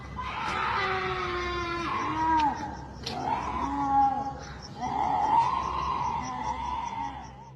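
Piercing human shrieks ring out in pitch darkness, several long wavering cries rising and falling in pitch with brief gaps between them, loud and strained over a low background rumble.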